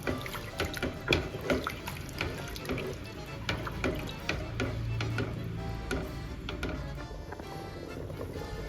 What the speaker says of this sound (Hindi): पानी का आपने देखा ही है कि उबल रहा है